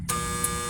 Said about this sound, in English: That's the sound of the pump seized up.